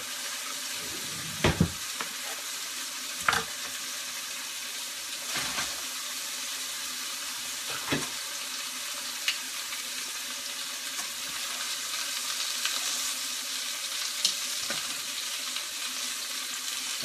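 Bone-in pork chops sear in a pan with a constant loud, broadband sizzle, broken by a few sharp knocks and clunks from handling nearby.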